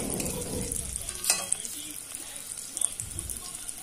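Paneer coated in flour and salt frying in oil. A constant close sizzle runs throughout, with stirring and a few sharp clinks of utensils.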